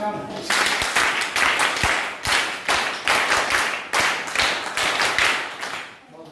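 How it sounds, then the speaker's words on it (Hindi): Loud, rhythmic hand clapping in repeated bursts at a teacher training session in India, a group clapping together in patterned five-beat rounds, filling the whole stretch with brief pauses between rounds. "बहुत सुंदर, बहुत जोरदार, जोरदार तालियां"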